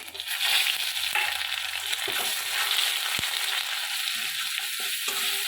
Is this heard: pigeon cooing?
no